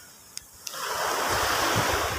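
After two faint clicks, a wave swells up into a broad, steady wash of surf with rushing water noise, moderately loud and close.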